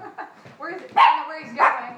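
A small poodle gives two loud yipping barks close by, a short pause between them, while a person talks over and between the barks.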